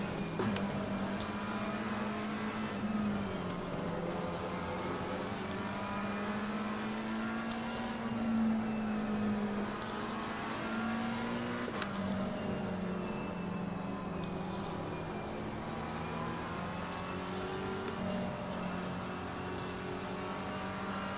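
Engine of a McLaren race car in the sim racing game Assetto Corsa Competizione, a steady loud droning roar that rises and falls as it revs, running continuously with no talk.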